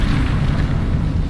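A Confringo fire spell bursts in Hogwarts Legacy with a loud, sustained explosive boom, a dense rumbling blast filling the whole short moment without any voice over it.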